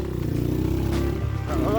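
A motorcycle engine climbs a mountain trail on Gunung Guntur with a loud, steady, throttled drone held close throughout, while a rider talks over it.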